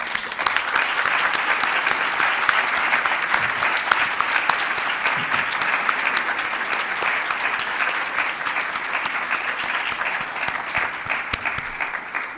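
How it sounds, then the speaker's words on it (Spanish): Sustained applause from a university conference audience closing the BioUANL 2014 session, dense and steady clapping throughout at an even level. "Un aplauso para Albert Sazón."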